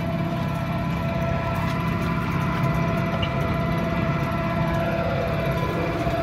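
A large commercial flywheel generator runs steadily at about 1000 RPM, a loud, continuous mechanical hum and drone with sustained tonal whine overtones, unchanging throughout with no voices.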